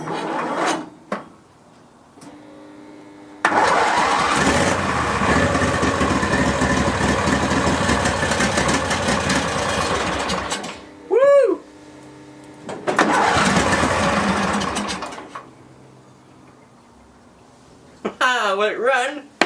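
Barn-find Hayter ride-on mower engine cranking, catching and running with the choke on, in loud bursts between quiet gaps, with a brief whistling tone and people talking.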